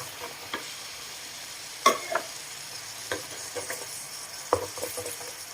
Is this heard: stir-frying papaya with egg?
yes